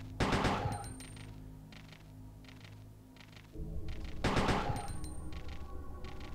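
Gunfire in the survival-horror video game Resident Evil 2: two loud, sharp bursts of shots separated by a few seconds, ringing over a low droning game ambience with no talking.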